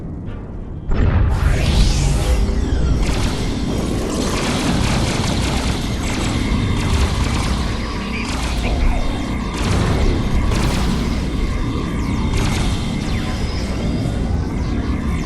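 Star Trek Online video game combat, a dense, loud, continuous barrage of weapons fire with repeated booms, rapid bursts and sweeping energy blasts lasting the whole stretch, no talk.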